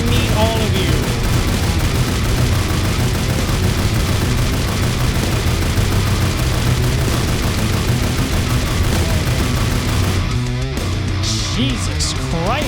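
Rapid, dense .30-06 rifle gunfire at targets in the 7 Days To Die game, loud overlapping shots and booms crowding the whole stretch before cutting off near the end.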